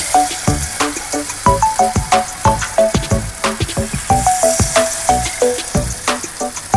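Jowar appe batter sizzling as spoonfuls go into a hot appe pan, loud close frying with rhythmic clinks and scrapes of a spoon against the metal pan, no talk.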